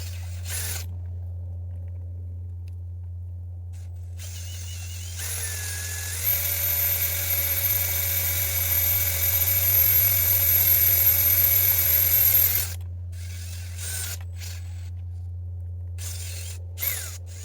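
A 16mm core drill bit bores out a half-inch Powers sleeve bolt. A strong low drone runs throughout, with a high-pitched whining grind building in the middle section and then stopping abruptly.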